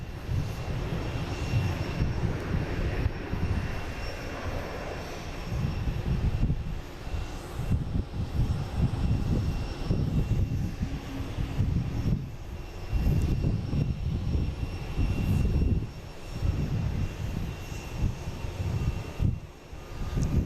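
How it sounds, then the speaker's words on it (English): A JetBlue Airbus A321 jet airliner arriving from San Juan roars loudly and steadily for the whole stretch, with a deep, rumbling engine noise that swells and fades slightly as it passes close by, with no talking. "we got a JetBlue coming in. Coming in from San Juan,"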